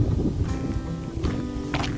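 Wind blowing by the Sturgeon River in winter, a loud, buffeting rush against the microphone with low rumbling gusts that rise and fall throughout, with no talking.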